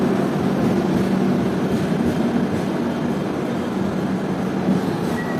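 Inside a general class coach of the 15675 Intercity Express, the moving train gives a steady, loud rumble of wheels and carriage noise, continuous and close.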